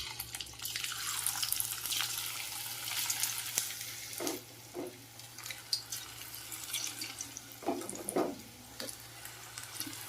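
A hand is wetted in water while jackfruit seed pakodi dough is shaped beside heating oil: soft splashing and dripping come in bursts over a low, steady hiss.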